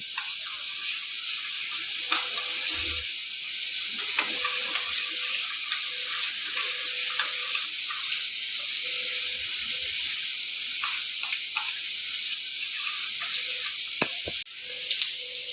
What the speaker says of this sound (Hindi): आलू भुजा गेल अछि।